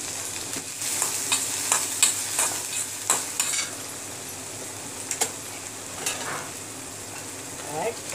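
Onion fries in a pan with a loud, close, steady sizzle, punctuated by a series of sharp stirring scrapes and taps early on that thin out toward the end.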